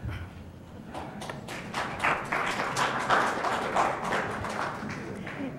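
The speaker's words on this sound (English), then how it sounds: "If you all can refrain from clapping, we will get through sooner" Applause from the audience at a League of Women Voters forum: a sustained burst of many hands clapping, fairly close and dense, swelling and fading over several seconds.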